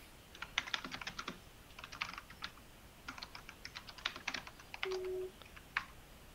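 Keyboard clatters in bursts of rapid keystrokes with short pauses between them, close and fairly quiet, and a brief electronic beep comes near the end.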